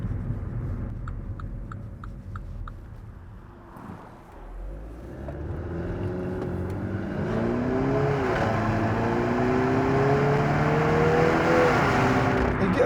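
A Mini John Cooper Works accelerates hard from inside the cabin, the engine note rising steadily through the gears, with a brief dip at a shift, growing louder and more strained toward the end.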